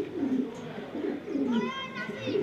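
A prize-winning racing pigeon with pedigree coos softly in a loft, repeated low throaty calls close by, with a voice briefly heard over them.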